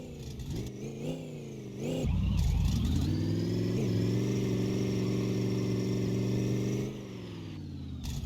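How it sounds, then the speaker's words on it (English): A car with a 4-speed manual gearbox does a full-throttle pop-clutch burnout with its wheels turned fully to one side. The engine idles, then surges into a loud, sustained high rev that holds for about five seconds before dropping back. "first we're going to start off with a full throttle pop clutch burnout, but we are going to do it with the wheels fully turned"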